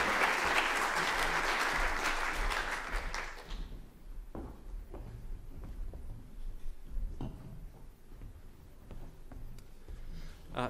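Dense, loud applause from a conference audience for a panel on the Australian sugar industry, which breaks off abruptly after a few seconds and leaves sparse scattered claps and faint room noise.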